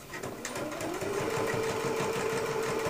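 A sewing machine runs steadily and loud, stitching the top seam of a tote bag with a continuous motor whir and fast needle chatter for the whole stretch, with no talking.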